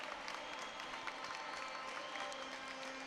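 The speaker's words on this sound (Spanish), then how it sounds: "donde reciben el aplauso de toda su afición, todo el público asistente al pabellón polideportivo de Monte Alto." An audience in the Monte Alto sports hall applauds a girls' youth roller hockey team, a continuous crowd of clapping hands ringing through the large pavilion at a distance, with faint voices mixed in.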